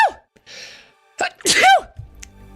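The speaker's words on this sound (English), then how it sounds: "I'm gonna sneeze" A single loud sneeze with a sharp intake before it, close to the microphone, followed by a short quiet pause.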